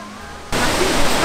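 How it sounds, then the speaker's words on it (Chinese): A waterfall at the Kumano Sanzan pilgrimage site in Wakayama, Japan, rushes in suddenly as a loud, steady broadband roar after about half a second of quiet background. "从这边就听得到那个瀑布的声音"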